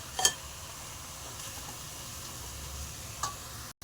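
Tomatoes frying in oil for a seela fish curry, a steady low sizzle that runs throughout, with a couple of brief clinks of a stirring spoon near the start and toward the end.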